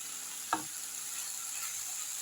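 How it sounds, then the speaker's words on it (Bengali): Onion stalks, brinjal and potato fry in a pan with a steady bright sizzle throughout, broken by one short scrape or stir early on, with no voices. "পেঁয়াজ কলি দিয়ে বেগুন দিয়ে আর আলু দিয়ে ওটাই ভাজা ভাজা মতো করবো"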